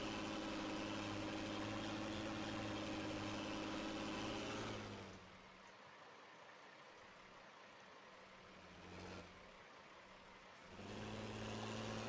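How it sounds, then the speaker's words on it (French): A tractor pulling a hay baler in Farming Simulator 19 runs with a steady engine drone that drops away for several seconds, briefly swells, then returns at full strength. "On va plus entendre le tracteur"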